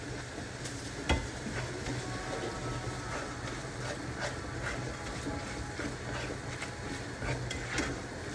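Steady scraping and stirring of a spoon through ingredients mixed with tomato paste in a pan, a continuous faint rustle with light sizzle and a sharp tap partway through, no voices.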